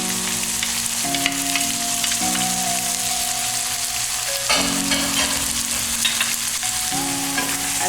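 Fried rice with baby green peas and carrots sizzles steadily in a hot pan, a constant bright crackle with occasional stirring scrapes, while a low tonal hum runs underneath throughout.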